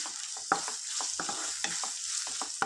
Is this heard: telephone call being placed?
no